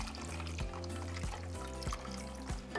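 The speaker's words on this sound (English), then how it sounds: "now we're going to be adding 3 cups of chicken broth" Chicken broth pours steadily into a pot of red chile sauce for enchiladas, a soft continuous liquid flow with faint rhythmic bumps, quiet and close, with no talking.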